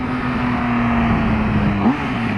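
Onboard engine note of a 2016 Triumph Speed Triple R motorcycle under acceleration, a loud, continuous drone with wind rush and a brief pitch dip and rise as the rider shifts or rolls the throttle.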